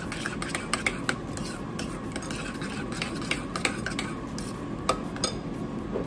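A spoon stirs chili powder and lime together in a bowl, giving soft, close scraping with a series of light, irregular clinks against the bowl, quiet and with no talking.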